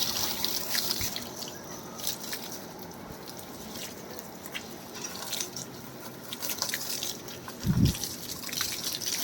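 Water poured from a container onto young trees, a soft splashing trickle and drips near the ground, quiet and irregular with faint outdoor background noise.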